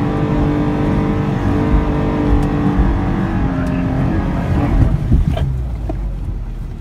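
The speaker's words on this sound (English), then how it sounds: "Have a listen to the motor, be able to hear exactly how much power I'm feeding into it" A Toyota FJ Cruiser engine drones steadily and loudly off-road with a low rumble, building slightly as power is added, with wind buffeting the microphone.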